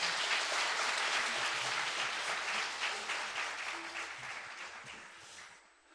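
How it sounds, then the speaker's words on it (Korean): A church congregation applauds in welcome during a gospel festival service, steady broadband clapping from a crowd that fills the room, holding fairly even before thinning and fading toward the end. "우리 한번 박수로 한번 이렇게 환영해 주시면."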